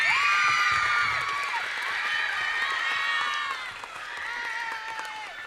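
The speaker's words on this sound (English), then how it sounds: "So a round of applause for these officers." Crowd at a middle school concert cheering and clapping, with high whoops and children's shrieks over continuous applause that fades slightly and then picks up again.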